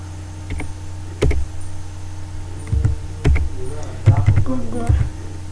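Someone types on a computer keyboard in a string of sharp, uneven clicks and taps, a few strokes at a time, while a voice speaks briefly over the keys.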